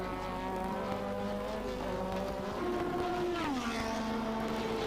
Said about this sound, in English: Keke overtaking Senna on the outside. Really charging now.